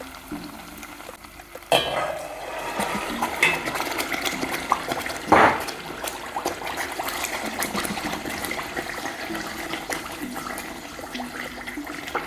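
A tomato plum goes into a hot pot of homemade pasta sauce with a sudden spitting splash, then a steady sizzling bubble. A second sharp burst of sputtering follows a few seconds later.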